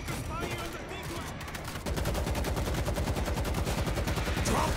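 Sustained rapid automatic gunfire in World War Z during the New Tokyo mission: a dense, steady stream of loud close shots that thickens partway through, with battle noise and occasional shouted voices.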